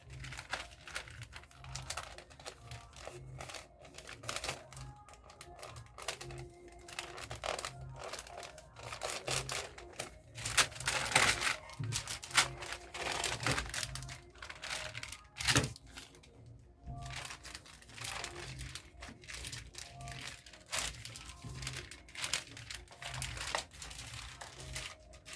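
Pattern paper crinkles and rustles continuously as it is handled and folded while a gown pattern is cut, a soft, steady papery scratching at close range with no talking.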